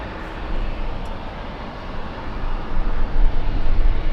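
An airliner arriving at LAX roars past, a broad low rumble that swells and grows louder toward the end as the plane nears.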